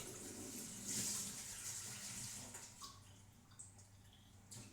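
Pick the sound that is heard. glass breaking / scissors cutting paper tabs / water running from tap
water running from tap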